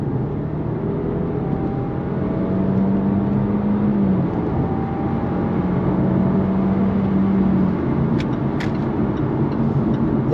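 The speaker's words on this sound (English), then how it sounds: "even though I'm in the regular Jaguar XE 2-litre with an automatic, this is definitely a very fun car to drive" A Jaguar XE 2-litre automatic accelerates away from a roundabout, its engine drone steady and loud from inside the cabin with a rising tone, no talking over it.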